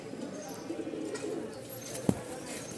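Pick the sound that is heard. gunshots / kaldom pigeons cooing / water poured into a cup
kaldom pigeons cooing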